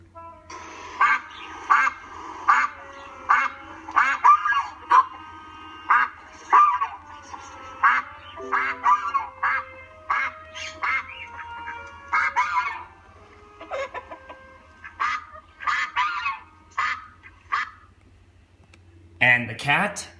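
Duck quacking effect for the duck theme in Peter and the Wolf, a long run of nasal quacks in uneven clusters, close and loud, spaced by short pauses across the stretch.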